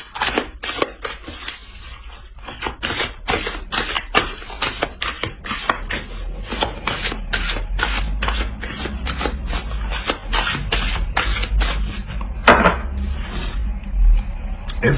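Oracle cards shuffled and drawn by hand, a rapid, close run of crisp riffling snaps and flicks that keeps up almost without pause, with a louder slap near the end.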